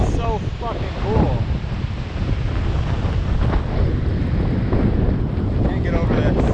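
Strong wind buffets the microphone in a constant roar, mixed with rushing water, near the base of Lower Yosemite Falls, while a voice speaks briefly near the beginning.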